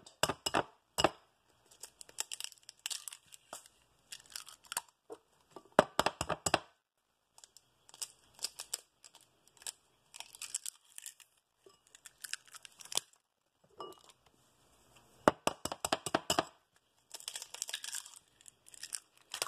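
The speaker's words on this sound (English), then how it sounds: "Now, we're going to crack the eggs." One-handed cracking of eggs for an omelette: repeated sharp cracks, crinkles and crunchy shell breaks in quick bursts across the clip, close up and fairly quiet, with no talking.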